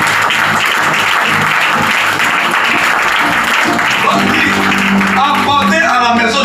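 A church congregation at a Sunday service bursts into loud, sustained applause to acclaim the Lord, the clapping filling the room before a voice begins speaking near the end.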